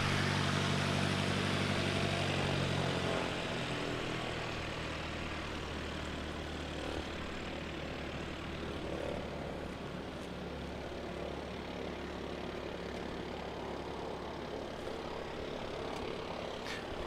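A propeller airliner at Christchurch Airport throttles up to full power, a loud steady engine roar and propeller drone that swells early then holds strong throughout, with no talking.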